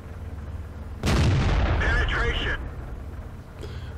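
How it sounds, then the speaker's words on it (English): A tank cannon in World of Tanks fires one heavy, booming shot that rolls into a rumbling decay, followed by game effect sounds and a fainter distant thud. "I'm not being able to shoot at that light tank"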